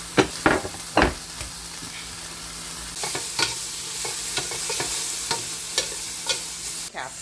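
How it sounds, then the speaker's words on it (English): Peppers and onions saute in a pan with a soft steady sizzle, broken by sharp scraping clicks of stirring, loud at first and then repeating more lightly. "Over here I have the peppers and onions sauteing."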